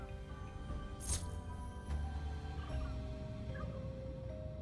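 Gobbler creatures in the Dungeons 4 video game let out a turkey-like gobble over a steady game soundscape with background music, heard as a few short bursts rather than a continuous call.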